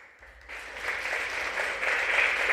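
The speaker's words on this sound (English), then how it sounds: "Yes, thank you for your applause." An audience applauds at an AI summit, with clapping that swells in from near silence into a steady, broad wash of many hands.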